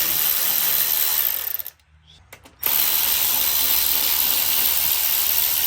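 A power tool whirs loudly up close as it backs pipe bolts off a BMW 335d turbo setup. A brief pause in the middle breaks the run before the tool whines on again.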